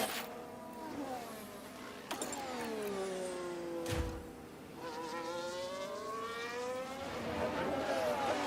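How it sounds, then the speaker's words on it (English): Daniel Ricciardo's Formula 1 car leaves the pits in F1 Manager 2013 as a whining, buzzy engine drone. Pitch sweeps in long curving harmonics, steady and fairly close, with no voices. "That is Daniel Ricciardo making his way out of the pits."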